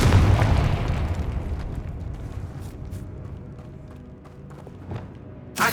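A Confringo blasting spell in Hogwarts Legacy explodes with a loud, heavy boom at the start, and its deep rumble decays slowly over several seconds before a short burst near the end.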